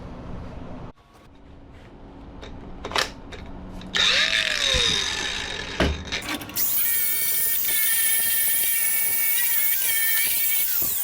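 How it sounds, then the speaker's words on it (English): A power drill whines in short bursts in a workshop, spinning up and cutting through material, then running in a sustained loud drone near the end, with no talk. "I'm also going to drill some holes and add some screws to keep this thing in place."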